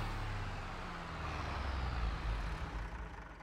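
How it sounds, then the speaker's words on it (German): A tractor engine in Farming Simulator 22 rumbles low and steady, then sputters and dies out as it stalls, with no voices over it. "Schlepper abgewürgt."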